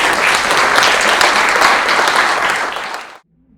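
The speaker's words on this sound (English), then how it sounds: "Please join me in giving a round of applause to Hannah and all of our panelists." An audience at a film screening and Q&A applauds the panelists, a dense, loud wash of clapping that holds steady for about three seconds, then cuts off abruptly into near silence.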